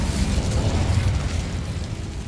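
An Incendio fire spell from Hogwarts Legacy erupts in a loud, roaring burst of flame that stays dense and rumbling for about two seconds before easing slightly.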